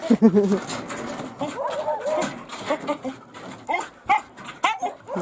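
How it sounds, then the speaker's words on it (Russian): A dog howls in drawn-out, wavering cries, strongest near the start and then breaking into shorter whines, close by and mixed with a person talking throughout. "Ну и наша собачка, как всегда, воет."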